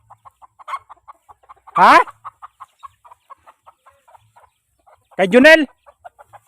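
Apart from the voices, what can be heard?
hen clucking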